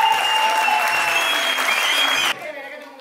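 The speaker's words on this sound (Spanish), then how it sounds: "aplauso para ella, por favor" A crowd at a breaking competition claps loudly and densely, with a tonal music or electronic whine running through it, before the applause cuts off abruptly near the end into quieter background sound.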